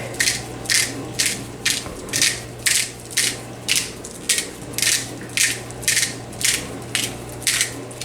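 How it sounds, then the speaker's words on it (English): Pepper grinder cranked over a crock pot dish, a close, rhythmic ratcheting crunch repeating about twice a second in steady turns over a low background hum. "is use my pepper grinder"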